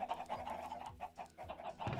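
Chickens in the video game Sky Odyssey make steady, fairly loud clucking and breathy panting calls throughout, with no talk over them.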